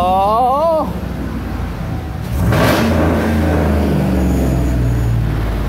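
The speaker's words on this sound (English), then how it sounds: "Got a 13 Silverado here. We just did a full muffler delete in a 3-inch." A 2013 Chevrolet Silverado with a full muffler delete and 3-inch straight-pipe exhaust revs up loudly and raspily nearby, its engine roar swelling and holding steady after a brief voice at the start.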